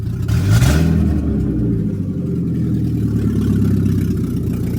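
A VW Golf MK4 engine revs up loudly near the start, then settles into a steady, rough mid-pitched drone that runs through the rest of the clip, with no voices.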